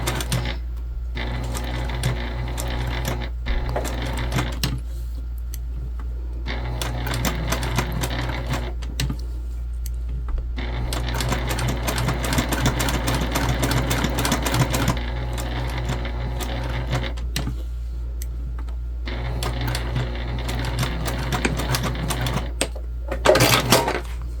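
A sewing machine stitches around a bag tag on a small backpack in repeated bursts of rapid mechanical clatter, with pauses between runs and a steady low hum underneath.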